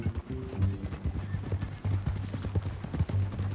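Horse hooves clip-clop in a steady walking rhythm in a video game, close and clear, with a low tonal drone and a brief snort or whinny mixed in.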